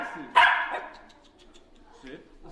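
Dogs at a dog cafe in Japan: one sharp, loud bark followed by a fading yip and a quieter whimpering bark, with a person talking around them.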